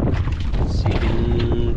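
Wind gusts steadily buffet a small fishing boat out on the water, a constant rough roar with low rumbling throughout and no clear talk.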